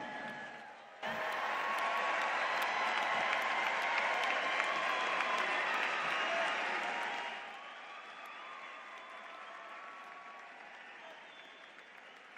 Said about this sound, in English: Graduates, please stand, look for your family and loved ones in the audience, and salute them with your applause